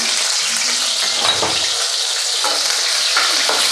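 Loud, dense sizzling of green chilli frying in hot oil with mustard seeds and curry leaves, with a few soft stirring knocks underneath.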